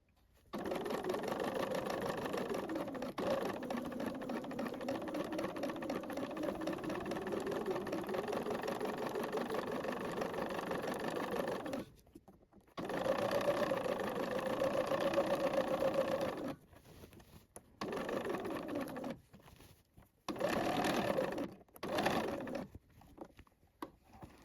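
A sewing machine sews a dress armhole seam 1 cm from the edge, humming in a long steady run, then several shorter bursts separated by abrupt stops.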